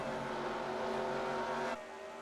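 Race cars roar around the oval at Kentucky in a stock car race, a dense, loud engine drone with overlapping cars near the end of the race, then the sound drops sharply as the pack passes and fades.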